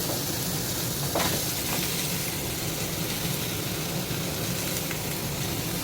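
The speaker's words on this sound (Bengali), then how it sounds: "এবার আলুটা ভাজতে দিলাম" Potatoes coated in turmeric and chili powder frying in a pan, giving a steady, close, even sizzle and hiss with no talking.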